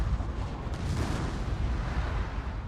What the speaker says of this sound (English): It's gonna come down to who gets the salvo off first.